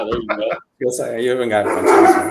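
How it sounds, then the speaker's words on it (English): A household dog barks in the background during an online lunch chat, its barks mixed under steady conversation that runs nearly the whole time apart from a brief pause. "you might hear my dog in the background"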